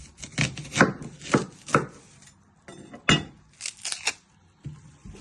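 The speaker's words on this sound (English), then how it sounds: "You're first going to chop your ends" A kitchen knife chops the ends off a red onion on a cutting board while ingredients are prepped for Mexican prawn soup. Several sharp, close chops land in an uneven rhythm, with brief pauses between them.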